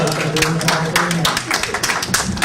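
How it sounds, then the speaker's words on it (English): A studio audience on a Houston television talk show claps in a brief, uneven burst of individual hand claps that stays close and fairly loud. "give yourself a big round of applause on that"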